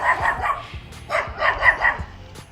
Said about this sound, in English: having like a whole bark session with the next door neighbor's dog